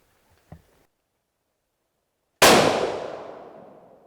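A single loud, sharp .22-250 Remington rifle shot firing a 50 grain Nosler Ballistic Tip over 39 grains of H380, with a long decaying outdoor echo, preceded by a faint click and then silence.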